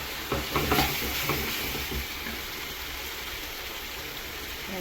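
Tamarind water poured into a hot cooking pan gives a steady sizzling, frothy wash with a few stirring clinks at the start, close and continuous throughout.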